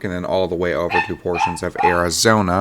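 A dog barks and yips in the background of a room, partly buried under someone speaking continuously close to the microphone.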